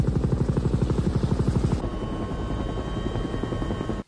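Helicopters fly in a scene from the 1989 film Road House, heard first as a loud rhythmic rotor thumping that then gives way to a steadier engine drone with a whining tone.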